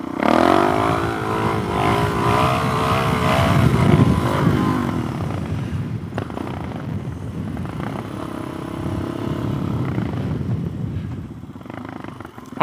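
A motorcycle revs hard and accelerates into a wheelie outdoors, its engine roaring loud and close, climbing in pitch, then settling into a rougher, steady drone as it rides on.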